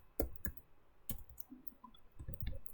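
Keys tapped on a computer keyboard while typing C code in a terminal editor, a handful of soft, irregular clicks close by over a quiet room, without speech.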